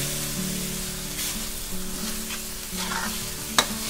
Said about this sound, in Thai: ผัดจนน้ำตาลละลายเลยค่ะ